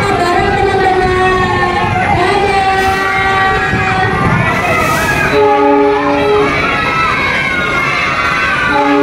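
A passenger train on Indonesia's KAI rail network at Pemalang rumbles past loudly with a sustained horn blast, while children and a crowd shout and cheer over the passing cars.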